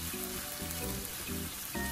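Ground pork sizzles in a pan with sautéed aromatics, a close steady crackle and hiss broken by brief low clattering thumps of stirring.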